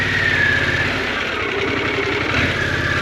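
Harley-Davidson Pan America motorcycle engine thrums steadily while riding, a close, continuous rhythmic mid-pitched drone with wind rush, no talk.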